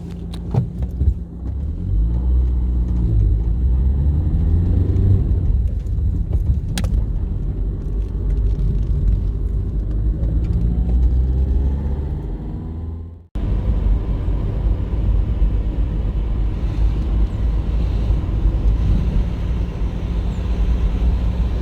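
Inside a car driving around Mersin, Turkey, a loud, steady engine and road rumble continues without a break except for one abrupt cut partway through.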